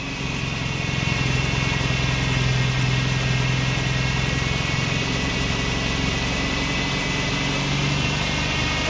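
A car engine idles too high during a U-joint repair job, a steady, unchanging droning hum heard up close with no pauses or speech for the whole stretch.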